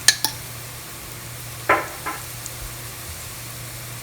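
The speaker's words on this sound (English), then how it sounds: "Fry it nicely." Onions and ginger garlic paste fry in a pan for malai koftas, heard as a low steady sizzle with a few clinks of a utensil against the pan and occasional stirring scrapes.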